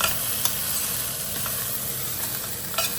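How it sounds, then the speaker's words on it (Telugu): Tomatoes being stirred in a hot pan give off a steady sizzle. A few brief utensil scrapes stand out near the start and end. "ఇప్పుడు టమోటాలు కూడా వేసేసేయండి, అదే హీట్కి మగ్గిపోతుంది. ఇదంతా మిక్స్ చేసేసి"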